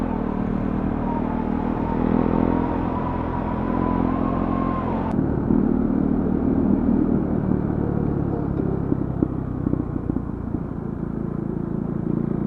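A KTM motorcycle engine idles with a low, heavy rumble and blips of revving, the tone shifting abruptly midway into a rougher, clattering idle, heard close up with no talking.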